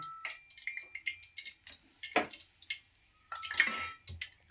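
Spoon stirring besan gram flour with hot ghee in a bowl, breaking up the lumps, with a quiet irregular series of light scrapes and clicks against the bowl.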